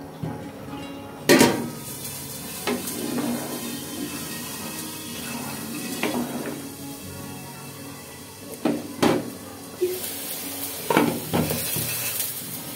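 Eggs cooking in a pan in a home kitchen, a steady frying sizzle under several sharp clinks and scrapes of a utensil against the pan, with occasional louder knocks of cookware.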